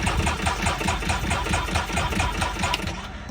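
A turbocharged Can-Am X3 engine being started, a loud, steady rhythmic chugging close by that runs without pause.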